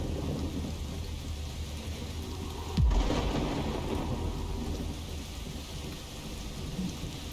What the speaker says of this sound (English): I remember there being a storm as well.